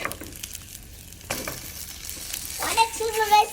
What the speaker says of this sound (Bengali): এই যে ডিমের মধ্যে চুবিয়ে পাউরুটিগুলো দিয়ে দিলাম। এখন আর একটু ঘি দিয়ে আমি